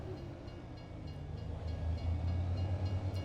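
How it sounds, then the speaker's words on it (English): A train in the Farming Simulator video game rolls past in Iowa farm country, a low rumbling drone that swells louder toward the end, steady and without talk. "And a train."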